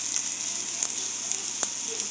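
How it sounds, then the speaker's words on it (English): Apple pancakes fry in coconut oil in a pan, a steady soft sizzle with a few small pops and crackles, close and continuous, with no talking. "So we just turned over the apple pancakes. Look how pretty that looks. And I love frying on coconut oil."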